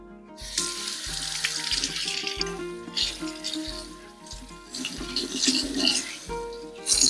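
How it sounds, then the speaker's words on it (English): Running tap water splashes into a kitchen sink as thick asparagus spears are rinsed, a steady close wash with light clatter and rattles against the basin. "So let's wash the asparagus."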